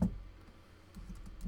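A few soft keyboard key presses on a computer keyboard while entering a line of code, faint and sparse clicks scattered near the end with low room noise and no talk.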